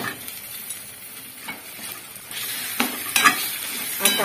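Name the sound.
stuffed brinjals frying in oil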